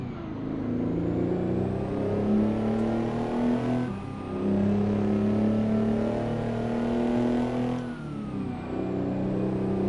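A Peterbilt R600 truck engine in American Truck Simulator revs up steadily, climbing in pitch through several gear changes with brief dips between shifts, loud and close with no talking.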